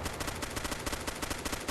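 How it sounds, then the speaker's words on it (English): Sustained automatic gunfire in the military shooter ArmA 2 during a multiplayer zone-control match, a dense rattling burst of evenly spaced shots throughout, fairly loud with no talking. "I think we have enemy gunfire."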